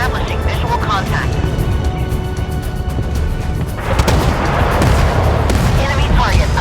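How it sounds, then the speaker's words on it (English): Warship guns fire at an enemy ship in the naval combat game Force of Warships, with loud, dense booming salvos over a constant engine-like roar, growing heavier midway through. "Ready to open fire on the enemy."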